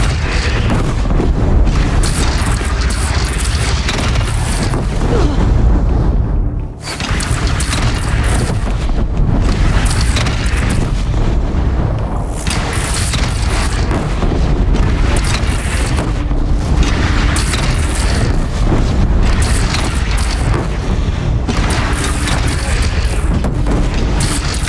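Heavy cannon fire and explosions from the video game Horizon Zero Dawn, with deep continuous booming and rumbling that fills the scene loudly, briefly dropping out once before resuming.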